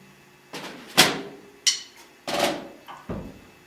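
Accented drum strokes on a practice pad, played in cut time: about six sharp taps at uneven spacing, some louder, close and dry, with no talking.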